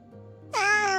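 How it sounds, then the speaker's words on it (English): A cat gives a short, soft meow in a quiet indoor setting, rising in at the midpoint after a near-silent start with faint background hum and no voices. "He meows in response. However, the meow is much softer than usual."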